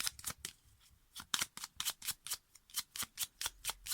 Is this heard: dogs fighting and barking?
no